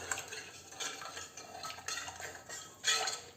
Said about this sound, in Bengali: এবার এটাকে আমি ভালো করে একটু মিক্স করে নেব।